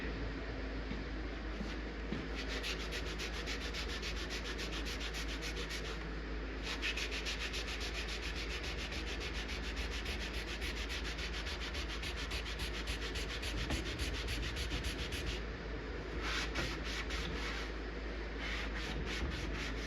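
Hard scrubbing on an arcade cabinet surface, a continuous close rubbing and scouring noise with rapid back-and-forth strokes, briefly easing a few times, no talking.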